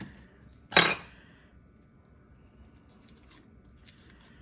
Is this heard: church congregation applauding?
no